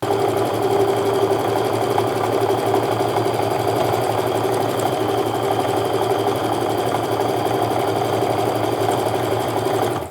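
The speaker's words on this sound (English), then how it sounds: "I'm going to go ahead and chain piece the rest of these" A sewing machine runs continuously while chain piecing quilt fabric, a steady close mechanical whir with no breaks and no talk.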